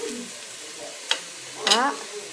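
Onions frying in a pan with a spoonful of ginger-garlic paste, a soft steady sizzle with a couple of brief stirring scrapes and clatters, close by and fairly quiet, with no talking.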